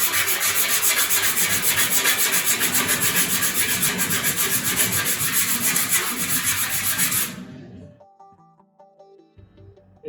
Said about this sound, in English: I've got a little bit of sandpaper here, and if I just scuff up this area